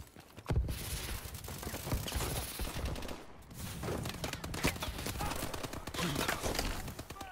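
Dense gunfire from a Call of Duty firefight, with rapid bursts and automatic fire running almost continuously and loud throughout, a few sharper shots and impacts standing out, with no talk over it.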